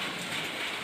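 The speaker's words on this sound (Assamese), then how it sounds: "বৰষুণৰ পানীৰ শব্দই সঁচাকৈ অন্তৰখন জীপাল কৰি থৈ যায়।" Rain falls at dusk, a steady dense hiss of drops heard close for under a second, with no voices.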